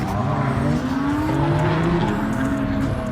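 A Lexus SC drift car, apparently with a 1JZ-type engine, revs hard at a drift event at Grange / Apple Valley Speedway, a loud continuous engine roar with rising and falling pitch over crowd and track noise.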